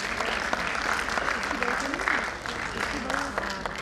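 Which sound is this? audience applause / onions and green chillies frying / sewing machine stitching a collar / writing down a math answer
audience applause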